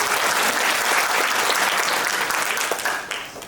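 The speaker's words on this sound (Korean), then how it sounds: "그럼 박수 부탁드리겠습니다." Attendees at a policy forum on improving conditions for long-term care workers applaud a professor as he is introduced to speak: thick, even clapping that holds steady, then thins and fades out toward the end.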